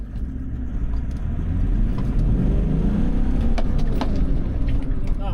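Toyota Troopy four-wheel drive rumbling off along a desert track in Big Desert, Victoria, a loud continuous low engine drone heard from inside as it pulls away, with faint talk from the occupants.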